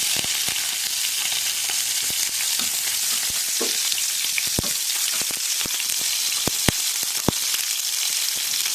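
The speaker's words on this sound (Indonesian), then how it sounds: "Bumbunya ini harus digoreng dulu ya teman-teman, baru dihaluskan." Spice paste of shallot, candlenut, nutmeg, ginger and scallion stems sizzles steadily in hot oil, a dense continuous crackle with scattered sharp pops throughout, close up and without talk.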